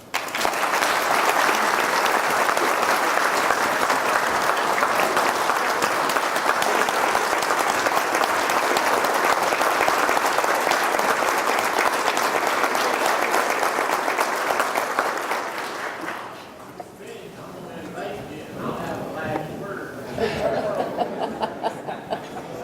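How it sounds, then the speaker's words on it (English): Sustained, loud audience applause at an Alabama sheriffs' association gathering honoring a director: dense clapping for about fifteen seconds, then fading into a few lingering claps, chuckles and murmuring crowd talk. "I just want to give him a round of applause"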